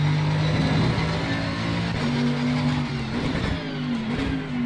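Mercedes-AMG GT3 race car engine in Assetto Corsa Competizione at Kyalami, a steady loud drone with rising pitch as it accelerates and shifts gear, running alone without talk.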